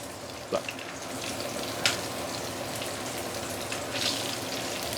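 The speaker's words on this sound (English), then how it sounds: "So when we actually deep fry the pork belly," A whole piece of pork belly deep frying in oil gives a dense, steady crackling sizzle that runs the full length, close and loud, with a few sharper pops and spits rising out of it.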